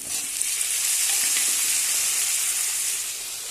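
Potatoes hit a pan of onions fried until reddish for a duck curry, setting off a loud, dense, continuous sizzle and hiss close by with no voices.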